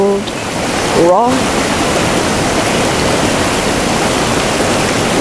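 A river flows with a constant broadband rush that holds steady throughout, and a faint bird chirp briefly rises over the water near the start.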